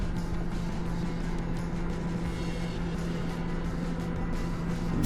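A full-size box fan powered by a Bluetti Elite 200 power station runs with a steady, close, continuous whir and low hum at an even level throughout.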